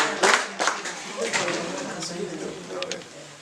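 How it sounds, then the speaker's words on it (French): An audience at a family celebration claps in scattered bursts at a moderate distance, with voices talking over and around the applause. "On va vous accueillir avec des applaudissements"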